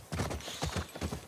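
Rapid, steady clip-clop of horse hooves on a hard surface in The Last of Us Part II, fairly quiet and brief, with no talking.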